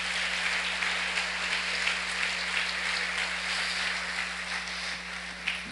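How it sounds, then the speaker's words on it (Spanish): A church congregation applauds after a Spanish-language prayer, a steady wash of clapping that holds at an even level throughout, with a low constant hum running underneath. "Dele un aplauso fuerte al Señor."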